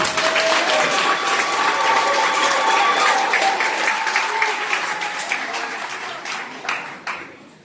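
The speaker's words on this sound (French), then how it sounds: "mon grand-père, M. Dijon Nivung Didi, que je vous demande d'applaudir." Audience applause at a French-language ceremony, a dense sustained round of clapping that stays loud for several seconds, then slowly thins and fades toward the end, with a voice briefly heard underneath.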